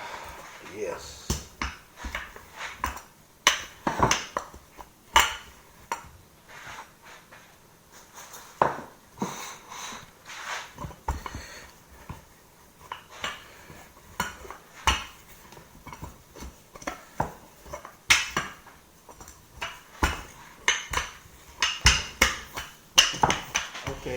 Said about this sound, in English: So I've continued rolling it here with the rolling pin.